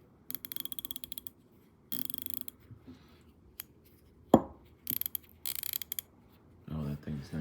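Snap-on 1/4 inch drive 72-tooth ratchet clicking in several quick close bursts of fine, rapid ticks separated by short pauses, with one sharper knock partway through and no talking.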